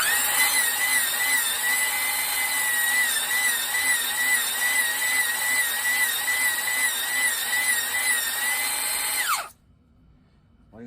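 A cylinder block from a Kohler K321 engine being honed with hone stones gives a loud, continuous high-pitched grinding whine with a wavering pitch that runs for about nine seconds, then cuts off abruptly near the end.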